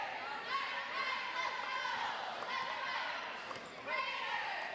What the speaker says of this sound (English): Balls bouncing, whistles blowing.